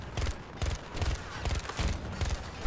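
Bursts of rifle fire from hip-firing a burst rifle in Battlefield 2042, with about six evenly spaced, punchy clusters of shots repeating close and loud, and no voices.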